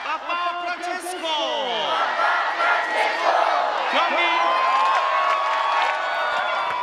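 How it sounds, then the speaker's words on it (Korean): A large crowd cheers and shouts for Pope Francis during his visit to Korea, a loud sustained roar of many voices with rising whoops and battle-cry yells, dense and close throughout. "환호성을 질러 주시면 되겠습니다"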